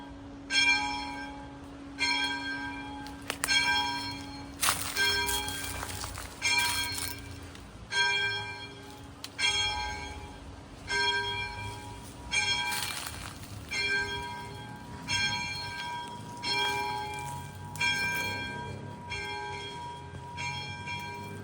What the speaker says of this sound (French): d'écouter le son de la cloche jusqu'à ce que tu puisses plus l'entendre